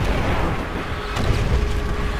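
Gunfire and explosions in Call of Duty: World at War, a continuous rumble of distant blasts and scattered shots in a chaotic battlefield, loud and dense throughout.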